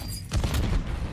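A Semtex grenade blast in a first-person shooter, a single broad booming burst that rises sharply and rumbles on for under a second, with faint game sounds before it.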